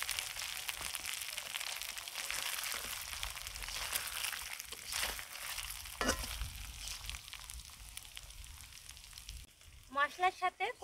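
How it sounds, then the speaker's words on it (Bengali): Jackfruit koftas fry in a spice paste of ginger, turmeric and salt, a continuous soft sizzle and crackle with occasional stirring scrapes, then brief clanks and a short burst of voice-like sound at the end. "মশলার সাথে কোফতাগুলো হালকা একটু ভেজে নিয়েছি।"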